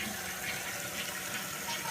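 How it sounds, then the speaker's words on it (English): Water flows steadily through an S2F filter holding a chlorine tablet, a soft, continuous rushing stream heard up close with no voices. "you're going to see a little bit of blue water coming through"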